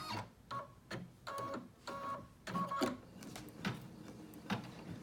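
An embroidery machine stitches the last foot of a tree frog design onto a zipper bag, a quiet, close run of rhythmic mechanical whirs and clicks in short repeated bursts.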